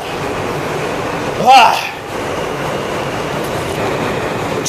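Inside a moving train, a continuous low rumble of wheels on rails fills the space, with a brief voice partway through.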